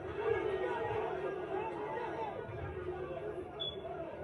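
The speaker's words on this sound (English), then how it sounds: "Sounds like the crowd sees something that we don't" A boxing crowd in Nashville murmurs and reacts, a steady hubbub of chatter and scattered voices rising and falling under the ringside action.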